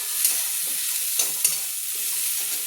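Shrimp and vegetables with green chilies fry in a pan, a steady close sizzle broken by several sharp scrapes and clatters of a stirring spoon, with no talking.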